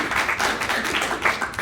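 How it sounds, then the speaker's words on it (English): Audience members at an improv class showcase applaud in a dense, steady round of clapping that fills the whole moment. "Let me hear your round of applause."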